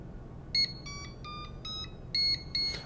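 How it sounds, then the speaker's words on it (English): A Fisher & Paykel heater sounds its alarm on power-up: a series of sharp electronic beeps in uneven bursts, some louder than others, over a low steady hiss with no talking. "Whenever you turn it on, you are going to be greeted by that alarm because there's nothing going on at this moment."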